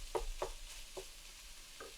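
Quiet sizzling of Colombian empanadas frying in a pan, with a few soft stirring scrapes spaced through a low, steady crackle.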